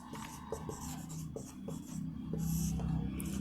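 Chalk or a marker writing on a board during a Sanskrit class, making quiet, soft rubbing strokes in short bursts over a low room hum, with no talking over it.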